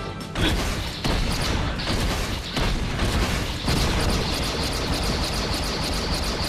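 Cluster missile blasts in PlayStation All-Stars Battle Royale land as a run of loud booming bursts layered over a continuous roaring rumble that lasts the whole stretch.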